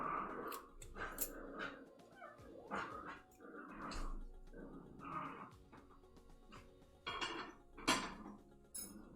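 A dad dog and his pups play tug of war with a rope, with soft growls, snorts and scuffling bursts and some clinking in between. The sounds are faint and irregular and carry on over a low background.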